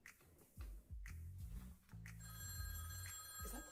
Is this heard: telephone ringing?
yes